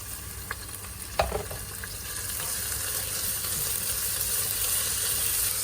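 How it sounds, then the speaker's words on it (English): Onions with fresh methi leaves fry steadily in a pan, a bright sizzle that swells after a sharp utensil clack and scrape of stirring near the start, then holds as a dense hiss. "I'm going to add in the fresh methi leaves. Let's fry it for about 1 or 2 minutes."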